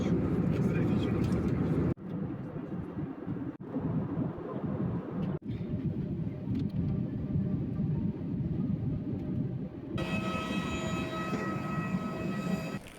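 Steady, loud cabin rumble from a passenger airplane flying from Almaty to Kyzyl-Orda in Kazakhstan, continuous throughout with a few brief dips, and faint, muffled voices mixed in.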